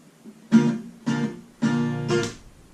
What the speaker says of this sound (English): You just have to do down, down,